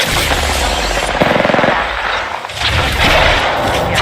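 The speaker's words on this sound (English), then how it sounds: "They're shooting at me." Dense, loud gunfire from the game Apex Legends runs almost continuously, a harsh rattling barrage with brief dips.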